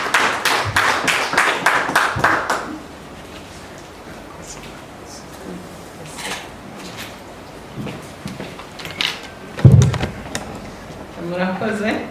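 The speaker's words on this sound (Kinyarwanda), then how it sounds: "Turabasaba bose kugendera amashyi." Applause from an audience at a formal closing ceremony greets the guest of honour: a burst of dense, rapid clapping that fades within a few seconds, followed by a quiet room and then a voice beginning to speak.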